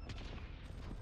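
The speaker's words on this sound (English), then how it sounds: "Accurate fucking rapid fire gun at the moment." Rapid automatic gunfire from an accurate weapon in Call of Duty Warzone on Rebirth Island, a short burst of fast, sharp shots that sounds fairly distant and thin, with no pause.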